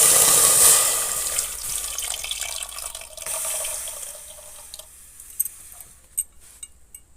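Water is poured into a pressure cooker holding three mangoes, a steady splashing pour that tapers off into scattered drips and small splashes.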